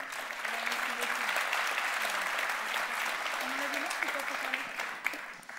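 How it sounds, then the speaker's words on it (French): An audience applauds the performers Les Caprices de Sidonie at a performance awards ceremony with steady, full clapping throughout, while a voice speaks briefly underneath. "Voilà, on les applaudit."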